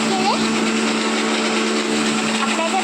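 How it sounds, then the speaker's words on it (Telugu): A mixer grinder grinds chutney with a loud, continuous whirring drone at a steady pitch that fills the whole stretch, with faint voices in the background. "అప్పుడైతే బాగా మిక్సీ పడుతున్నాం."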